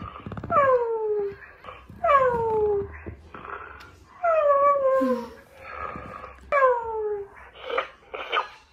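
A puppy given as a gift whimpers and howls in a repeated series of drawn-out, falling cries, close and fairly loud, with pauses between them.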